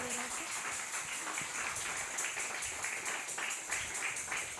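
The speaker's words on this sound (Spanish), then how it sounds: "Den esos aplausos a nuestro Dios todopoderoso." A church congregation claps in sustained, even applause that holds steady at a moderate level throughout, with no voices rising above it.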